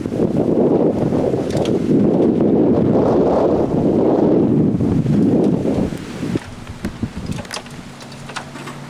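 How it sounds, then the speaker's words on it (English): Steady, roaring wind from the remnants of Hurricane Frances in Punta Gorda, Florida, 2004, buffets the microphone for about six seconds, then eases into lighter gusts with faint rustling and a low hum. "Remnants of Francis still gusting through here."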